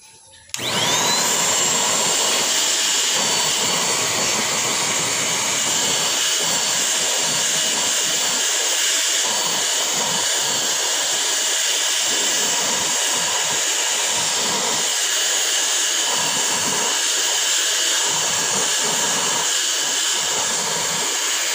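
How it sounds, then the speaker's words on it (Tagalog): A vacuum cleaner starts abruptly and runs at a steady high-pitched roar while cleaning the aircon filter of a 2019 Mitsubishi Montero Sport, loud and close, with faint shifts in tone as the nozzle moves. "Vacuumin natin."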